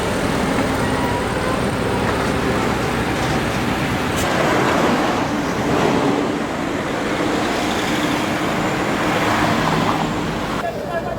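Steady road traffic streams past on Marcos Highway in Baguio City, a continuous broad wash of passing cars and heavier vehicles, with swells as individual vehicles go by.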